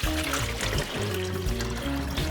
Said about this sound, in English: we're going to take the water from the jug we poured and just pour it into the back in the reservoir